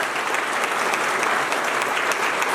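Loud, steady audience applause fills the hall at a spiritual gathering, continuous dense clapping throughout with no voices over it.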